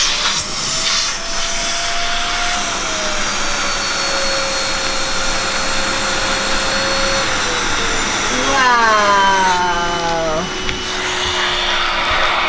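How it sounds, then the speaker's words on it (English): Vacuum pump drawing air out of a clothes storage bag, a loud steady whine and hiss close by whose pitch shifts and strains as the bag collapses, with a voice speaking over it. "So we're vacuum sealing our clothes here."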